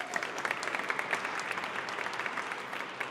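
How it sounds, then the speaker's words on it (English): A crowd claps steadily at a homicide victims' awareness month opening ceremony, a dense patter of many hands applauding throughout at moderate volume. "Why don't you guys give them a round of applause?"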